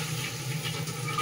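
Boiled chickpeas frying in oil-rich spiced masala in a pan, a steady close sizzle with soft bubbling crackle throughout, no voices.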